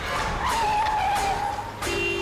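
A car driven recklessly with tires skidding and squealing, a long sustained screech that rises and wavers before a sharp cut to a steady tone.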